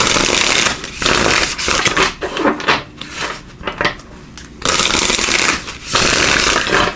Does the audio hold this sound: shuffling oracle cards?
yes